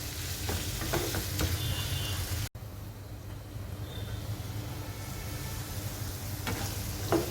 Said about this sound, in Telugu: ఈ ఆలుగడ్డ ముక్కల్ని కొద్దిగా ఫ్రై చేసుకోవాలి